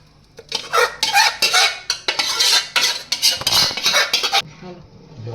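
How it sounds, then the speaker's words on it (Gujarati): Hot tempering poured into a pot of Gujarati dal dhokli gives a burst of loud crackling sizzle with metal spoon clatter against the pot, fading out after a few seconds. "તો જો આ વઘાર નાખી દઉં હું"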